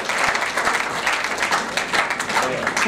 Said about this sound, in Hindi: जोरदार तालियां बजाकर लता जी का स्वागत।